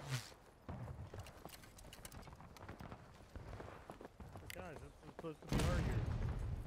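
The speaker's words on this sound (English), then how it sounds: "that was a close cannon shot" A cannon shot in the Civil War game War of Rights lands close by, a sudden loud broadband blast near the end that follows continuous game noise of horses, scattered gunfire and shouting voices.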